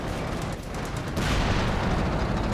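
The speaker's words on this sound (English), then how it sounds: "This Sherman tank is getting hit pretty hard there." Heavy tank cannon fire and impacts batter a Sherman tank in the World War II strategy game Company of Heroes, a rumbling, booming barrage that swells partway through and carries on without a pause.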